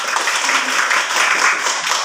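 Schoolchildren in a classroom clap their hands together, a brisk, fairly close patter of small hands that holds steady for a couple of seconds.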